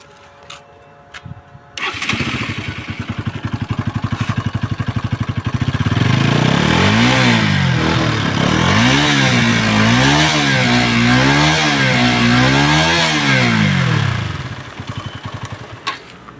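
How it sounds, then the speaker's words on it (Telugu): A Bajaj Pulsar NS200 motorcycle engine cranks and fires, then settles into a loud, steady close-up run, with the revs rising and falling in a few repeated blips before easing back toward idle. "ఒకసారి బైక్ అయితే స్టార్ట్ అయితే చేసి చూసుకుందాం మనం."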